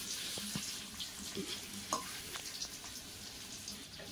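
An egg fries in oil in a pan with a soft, even sizzle. Faint scrapes and taps from a spatula come now and then, all at low volume and close by.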